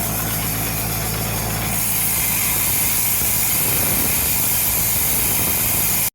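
Backlapping machine spinning several reel mower reels at once, a loud, steady mechanical whir and grinding hum that continues unbroken, with a slight shift in tone partway through before cutting off abruptly.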